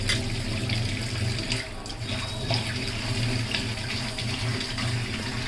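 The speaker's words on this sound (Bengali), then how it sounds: "এই যে এখানে থালা বাসন ধোয়া আছে, থালা বাসন দিচ্ছে।" Tap water running into a sink while dishes are washed, a steady close gush with faint clinks and splashes layered over the flow, continuous from start to finish.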